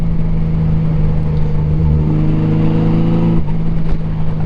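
A Honda GL1500 Goldwing motorcycle engine pulls steadily under acceleration, a loud, close, smooth low drone with a slight shift in pitch near the end, heard from on the bike while riding.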